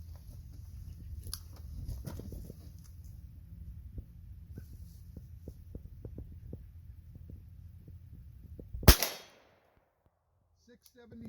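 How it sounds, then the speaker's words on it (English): A single sharp, loud gunshot from a Taurus 856 Defender revolver firing 158-grain round-nose .38 Special handloads, preceded by a low steady hum and followed by near silence. "the first load I'm going to try are some hand loads, 158 grain, round nose bullets"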